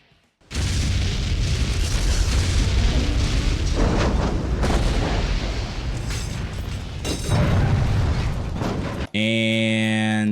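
A video game train crash: a loud, sustained crashing roar with booming impacts fills several seconds as a train hits another train and explodes, then cuts to a brief tonal sound at the end.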